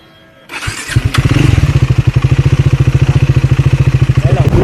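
A motorcycle engine starts and settles into a loud, even, pulsing idle close to the microphone near Hesaraghatta Lake.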